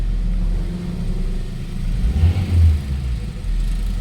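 A Mazda 3 with a 1.6 engine and a vibration fault idles close by, giving a steady low rumble that swells slightly midway before settling again, with no voices over it.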